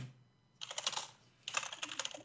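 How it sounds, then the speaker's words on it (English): Someone types on a computer keyboard in two quick bursts of soft, rapid key clicks separated by a short pause, fairly faint in a quiet room. "And Steve is typing away."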